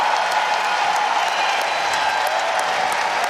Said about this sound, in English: Diamond Johnson brings this crowd to its feet in Raleigh.